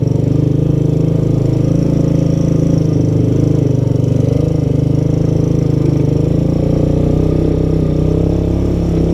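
A Honda ATC200S three-wheeler engine runs steadily and loudly close by, a continuous low rumble that stays near idle with slight surges as the rider pulls away for donuts.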